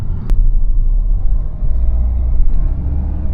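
Road and wind noise fill the cabin of an Opel Insignia 1.6 CDTI Grand Sport while driving, a loud, steady low rumble with a brief click near the start and no talking.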